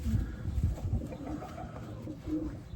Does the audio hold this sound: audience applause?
no